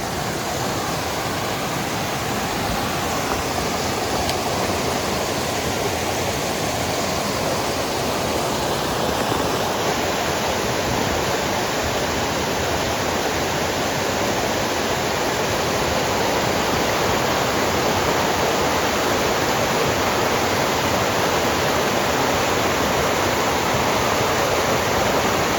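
A waterfall along a trail, a loud continuous rushing roar of falling water filling the scene steadily, close and unbroken, with no voices.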